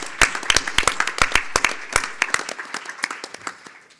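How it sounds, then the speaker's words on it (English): Applause at the closing plenary of a digital preservation conference; a smallish crowd claps in distinct, crisp bursts close by, thinning out over a few seconds. "So if everybody would just have a round of applause for members of DLF and all of you"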